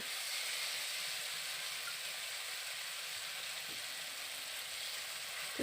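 Soybean curry sizzling in a pan as water is added a little at a time, a steady soft hiss of steam and frying throughout with a faint splash near the end.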